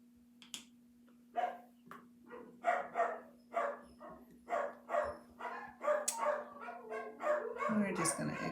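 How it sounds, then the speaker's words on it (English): Several dogs bark repeatedly in quick, irregular succession, fairly close and loud, over a steady low electrical hum, with a brief sharper yelp near the end. "Usually they make that barking sound when someone's driving up."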